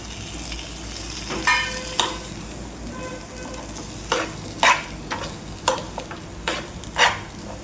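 Drumstick pods and black masala sautéing in a pan, with a soft continuous sizzle under a series of sharp, close spoon scrapes and stirring clatters coming in irregular bursts.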